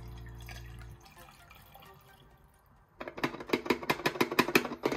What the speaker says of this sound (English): and you dump the water out.